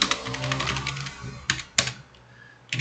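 Keys clatter on a computer keyboard while text is entered into a support request form, a close run of rapid taps followed by a few isolated, sharper keystrokes.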